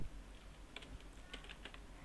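Code being typed on a computer keyboard in a short run of light, quick keystrokes, close and fairly soft, with no talking.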